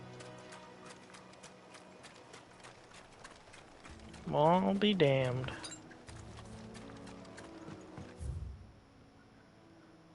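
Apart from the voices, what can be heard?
Chocobo mount footsteps in Final Fantasy XVI video game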